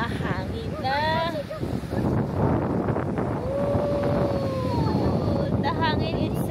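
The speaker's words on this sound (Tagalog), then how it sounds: "Mahangin na." Cold wind at Mount Maunganui beach in New Zealand, a continuous buffeting rush against the microphone, while a person talks over it.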